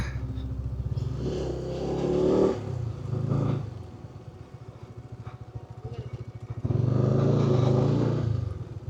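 A motorcycle engine drones steadily nearby at Modhutila Eco Park, Sherpur, swelling louder in two bursts as it revs, with a low rumbling throb throughout.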